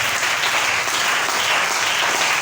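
A church congregation bursts into loud, dense applause acclaiming the Lord at an evangelical service, a sustained wash of many hands clapping close and even throughout with no speech over it.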